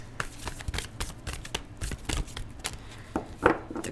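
Tarot cards being shuffled, a steady run of soft riffling and sliding card sounds up close with no talking.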